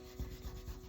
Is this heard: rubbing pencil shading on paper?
yes